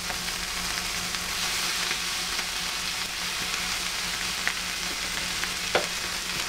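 Rice fries in a pan for Chinese-style fried rice, giving a dense, continuous sizzling hiss with a few faint clicks of a utensil, close and steady with no voices.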